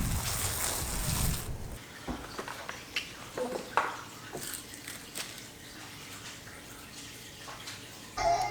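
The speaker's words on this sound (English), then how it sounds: "So now let's go water the garden." Water runs steadily from a hose or tap while a backyard farm garden gets watered, a broad hiss that starts loud, then drops to a softer continuous flow broken by faint splashes and handling knocks, with no talking.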